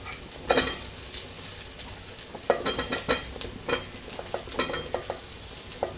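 Mushrooms for a mushroom curry sizzle in hot oil while a spoon stirs and scrapes the pan in repeated close strokes over a steady frying hiss, with no voice.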